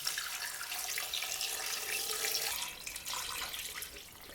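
Water pouring into a saucepan holding a small chicken and cut aromatics, a steady close hiss and splash that runs continuously for a few seconds before easing slightly.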